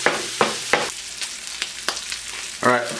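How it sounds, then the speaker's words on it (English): Sausage frying on medium-high heat in a pan while being broken up and crumbled, with a constant sizzle and repeated spatula scrapes against the pan, close and with no talk. "you just want to cook your sausage on medium-high heat"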